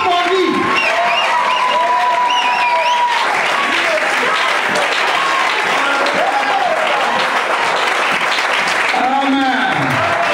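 A church congregation breaks into loud, sustained applause and scattered cheers for Jesus while a voice keeps speaking over the clapping.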